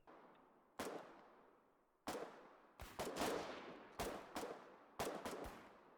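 Gunfire in the war video game Foxhole, single sharp shots spaced about a second apart with a few quicker doubles, each trailing off in an echoing decay, fairly faint overall.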